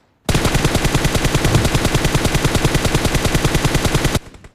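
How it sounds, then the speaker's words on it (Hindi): Sustained automatic gunfire from the PUBG Mobile training mode, a rapid, evenly spaced stream of loud shots lasting about four seconds before cutting off, with no talk over it. "आपको ये फायर करते करते पीक करके भी ट्राई करना है"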